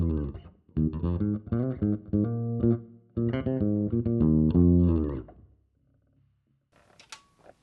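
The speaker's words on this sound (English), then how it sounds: "our dry bass amp sounds like this" Dry electric bass through an SVT amp modeled on a Fractal, with 810 and 410 cab impulse responses miked by an M88, plays two loud, punchy phrases of rapid notes, then drops to a faint low tail before a brief quiet flourish.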